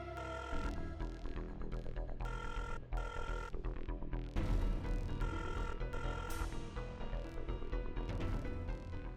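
A telephone rings repeatedly and loudly in a rhythmic pattern of trilling bursts over a dense, continuous background.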